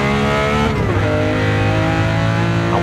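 A Walter Wolf Special Lamborghini Countach 500S races around a circuit. Its engine note is loud and close, with a quick downshift blip and then a steady, rising roar.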